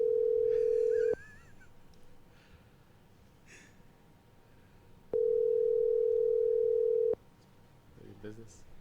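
Ringing tone on an outgoing telephone call, heard as two loud, steady pure-tone bursts, the first about one second and the second about two seconds long, with faint breathing and a gasp in the quiet gap between them.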